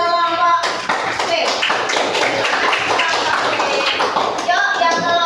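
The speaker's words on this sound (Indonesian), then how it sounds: "kalau tidak kita beri tepuk tangan pada kelompok C" A fourth-grade class claps for a student group. The clapping is loud, close and dense, with lively tapping, and children's voices mix in underneath.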